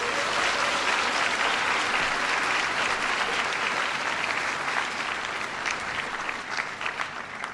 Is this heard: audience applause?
yes